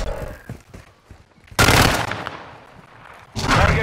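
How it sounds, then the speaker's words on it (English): Loud bursts of automatic gunfire in Call of Duty Modern Warfare: a sustained roaring volley that fades into a trailing echo, then a second heavy burst, with scattered fainter shots before the first. "Fire! Taking effective fire!"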